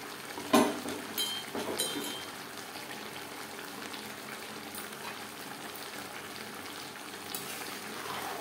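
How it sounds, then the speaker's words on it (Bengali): Chopped bottle gourd and coriander leaves are stirred in a pan, a few sharp clanks of the utensil at the start and then a soft, steady frying hiss, quiet and close, with no voices. "লাউর সাথে ধনেপাতা বেশ ভালো করে মিক্স করে দেব।"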